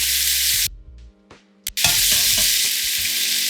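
Pieces of liver sizzle and fry loudly in a hot pan, with a steady hiss that briefly drops away near the start and then comes back as strong as before.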